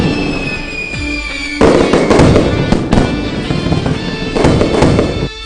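Festival fireworks bursting in quick succession, with sharp crackling explosions and dense bangs packed together, loud and close, with a brief lull before a second heavy barrage.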